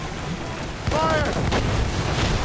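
Ship cannons booming in Assassin's Creed Rogue during a naval battle, a heavy blast landing midway with a ringing, whistling tail, loud and close, amid game noise and a voice nearby.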